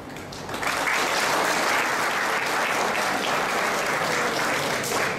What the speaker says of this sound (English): Save your claps. Your palms will go sore.